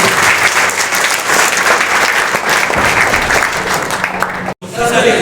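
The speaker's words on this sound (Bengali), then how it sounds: "আমার সবকটা বন্ধুর জন্য একটা বিরাট বড় হাততালি" Loud, dense applause from a gathering of friends at a government ITI in Ranibandh, Bankura, sustained for about five seconds, with a brief dropout near the end before the clapping resumes.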